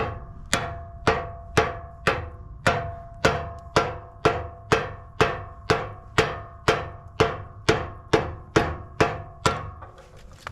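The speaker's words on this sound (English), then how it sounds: "alright, we're just gonna get a bigger hammer." Hammer striking to drive a new wheel bearing onto a boat trailer hub, about fifteen evenly spaced, ringing metallic blows close up, each decaying before the next.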